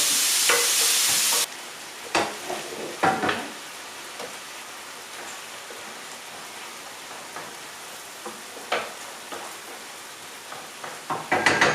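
Meat for tacos sizzles softly in a hot pan, a steady hiss broken by scattered pops and crackles, loudest in a brief burst at the start.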